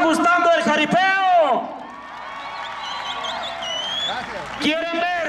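A crowd at a jaripeo, a Mexican rodeo, breaks into applause and cheering, a broad wash of clapping and whoops between an announcer's amplified speech.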